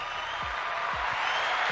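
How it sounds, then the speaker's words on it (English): Steady applause greets Mr. LaDon, a co-host from Cleveland, Ohio, introduced on a talk show; a dense, continuous wash of clapping holds at an even level for the whole moment, with no voices over it. "Oh, look, he got applause and everything."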